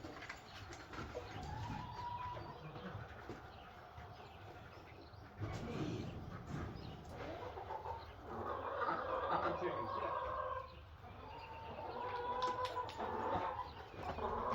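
Chickens in a barn on a small farm cluck and murmur steadily at close range. Their calls rise and swell in a few busier bursts, and a person's voice can be heard faintly underneath.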